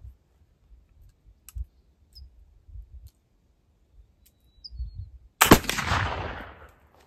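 A single loud gunshot from a rifle loaded with original Swiss black powder cracks sharply and trails off in a long ringing decay, preceded by faint clicks and handling noises, with no talking.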